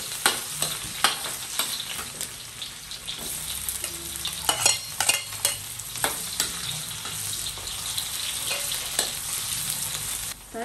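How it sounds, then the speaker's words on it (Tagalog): Onion and garlic sauté in cooking oil for pancit bihon with a close, steady sizzle and frequent scraping and tapping strokes from stirring throughout, and no voices are heard. "Ito maglalagay na tayo ng mantika. Magigisa ng sibuyas bawang."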